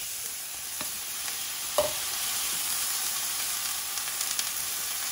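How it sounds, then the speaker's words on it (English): Broccoli sautéing in a pot gives a steady, soft sizzle with a few sharp clinks and scrapes of a utensil stirring, moderately close and without talk. "you want to just saute your broccoli in the pot for about 2-3 minutes"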